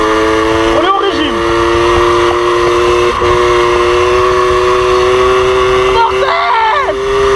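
An MBK 51 Magnum moped with a modified air box holds a high, buzzing rev at steady pitch close by, with brief fragments of a voice over it near the start and end.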